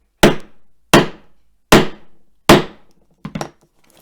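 A hammer punches through layers of card on a self-healing cutting mat, with four hard, loud, evenly spaced bangs followed by a lighter double knock.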